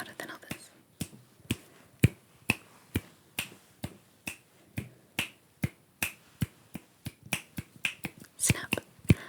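A long run of sharp finger snaps at a steady pace, some louder than others, with faint whispered talk between them.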